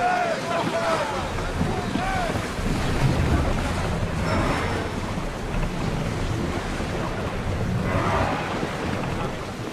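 A sailing ship sets out on the sea in the game Assassin's Creed Odyssey, with rushing waves and wind noise forming a continuous wash under occasional voices speaking.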